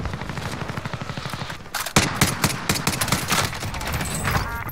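Rapid bursts of gunfire from a shooter video game, including an EBR 14 rifle, crackle steadily and loudly, growing denser and punchier after a sharp blast midway, with no talking over it.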